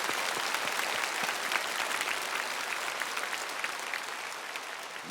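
A church congregation claps in steady, dense applause that fills the room at an even level for several seconds, with no talking over it.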